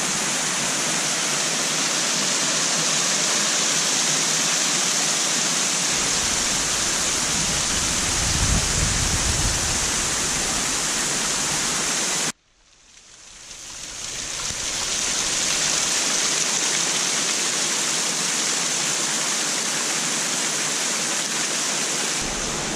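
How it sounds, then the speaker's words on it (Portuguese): The Salto Escondido cascade, a waterfall with only a modest flow of water, gives a steady, dense rush heard up close. The sound cuts out abruptly midway and then swells back to the same continuous roar, with no voices. "essa aí é a cascata do Salto Escondido, não é uma cascata onde escorre muita água"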